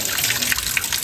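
Cold natural spring water at the Keshav Tirth spring by a Konkan temple flows in a steady, close hissing trickle that runs unbroken and alone for about a second.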